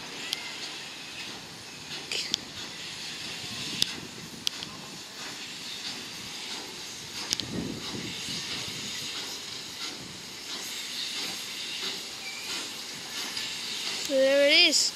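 A Christmas heritage train on the Mornington Peninsula Railway rolls into platform one with continuous hissing and rumbling, occasional clanks, and a rising squeal of brakes near the end; a voice speaks briefly.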